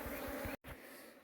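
Bees around a hillside hive make a steady, close insect buzz that breaks off for a moment and then resumes.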